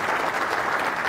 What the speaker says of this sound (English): Maybe we can give them a quick round of applause because they are doing an amazing job.